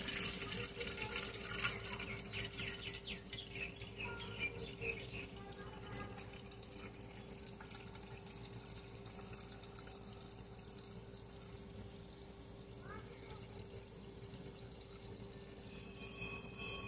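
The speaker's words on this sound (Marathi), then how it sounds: "त्यामध्ये असं अलगद पाणी संपूर्ण काढून घेते." Water is gently scooped off settled wheat starch into a small pot, giving soft, quiet trickles and pours against a faint steady hum in a home kitchen.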